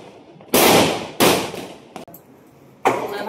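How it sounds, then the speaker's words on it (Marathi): Loud firecrackers burst outside during Diwali Lakshmi Puja celebrations: two big sharp blasts in quick succession, a smaller crack, then another heavy bang, each trailing off in a crackling roar with no voices. "खूप आवाज येतोय फटाक्यांचा."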